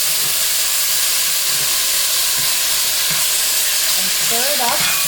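Collard greens and chopped tomato sizzle steadily in a Dutch pot with a little olive oil over lowered heat, a continuous close frying hiss broken by the scrape and clatter of stirring, with no voices.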